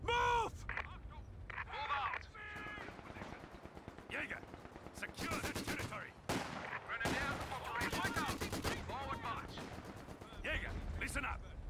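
Company of Heroes 2 battle: bursts of machine-gun fire and rifle shots crack in rapid strings, with soldiers' shouted voice lines layered throughout and dull explosions mixed in.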